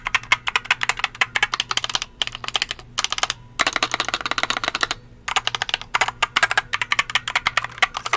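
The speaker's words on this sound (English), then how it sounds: "Mechanical keyboard with yellow Gator on switches." Rapid clicky keystrokes on a DREI DK61 mechanical keyboard with yellow switches, close and steady, with brief pauses between bursts of typing.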